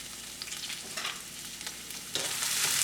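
Vegetables and shrimp frying in a pan for tacos, giving a steady close sizzle with faint stirring scrapes that grows louder and more intense near the end.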